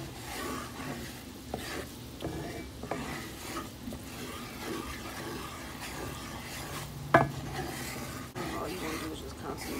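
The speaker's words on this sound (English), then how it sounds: "All you're gonna do is just constantly stir it till it gets to have color." Flour roux for crawfish bisque is stirred constantly in a pot, giving soft irregular scraping and swishing under faint kitchen background, with a brief clink near the seventh second.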